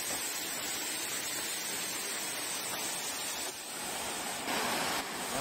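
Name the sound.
waterfall on Mount Rokko hiking trail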